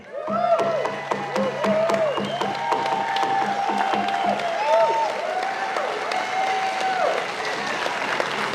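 Sustained applause from a crowd at a local protest against wind farms in Bunbury, Western Australia, dense clapping throughout with a few voices and tonal sounds rising over it, steady and fairly close.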